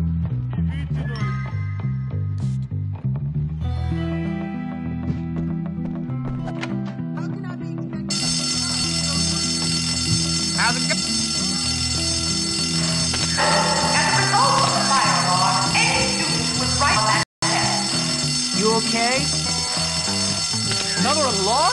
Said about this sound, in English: Another alarm? How tedious.